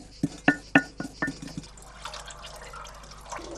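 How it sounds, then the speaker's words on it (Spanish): Soaked, crushed cochineal is poured into a dye bath: a few sharp, splashy drips land in quick succession, then thin into a softer, continuous trickle of liquid. "Ahora estoy virtiendo la cochinilla que previamente he machacado y he dejado al remojo unas cuantas horas"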